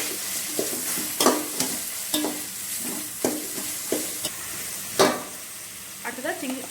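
Large onions and chili powder sautéing in a pan for mushroom biryani, a continuous sizzle punctuated by regular scraping strokes of a spoon, fairly close and prominent.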